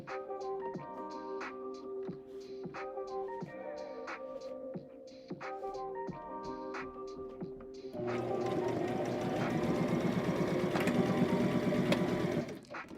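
A sewing machine stitches fabric scrunchies in short, rhythmic bursts that pause and restart, then runs in a longer, louder continuous stretch, close and alone without talk.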